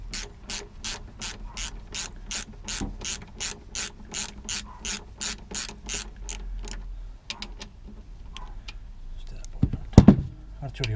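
A ratchet socket wrench tightening clockwise clicks in a fast steady run of about twenty evenly spaced ratcheting strokes, close and distinct, then slows into a few scattered clicks and a heavier clunk near the end.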